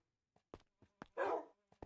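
Two dogs barking in a series of short, sharp yaps spread across the moment, with one longer, rougher bark in the middle; fairly quiet and with no one talking.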